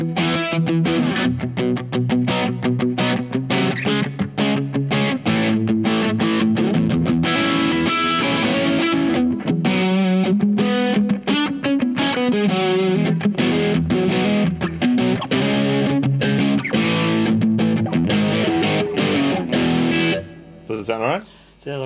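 An electric guitar played through a Boss DS-1W distortion pedal, sustained gritty chords and riffs continuing for a long stretch before cutting off near the end.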